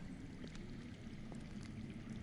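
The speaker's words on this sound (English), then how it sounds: "I hear water. From underground." Steady, faint rush of water flowing somewhere underground in a Game of Thrones video game, a continuous muffled wash with no pauses.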